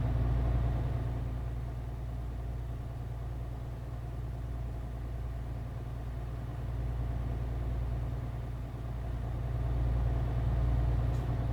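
A simulated MAN TGX truck cruises steadily in Euro Truck Simulator, its low engine drone holding an even pitch and level throughout, with no voices over it.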